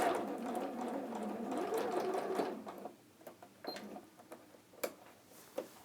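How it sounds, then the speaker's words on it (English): Sewing machine stitching a back tack on hat fabric at a 0.5 cm seam: a rapid, steady mechanical whir for a few seconds, then it stops and gives way to quiet clicks and small handling taps. "And down to the bottom with the back tack."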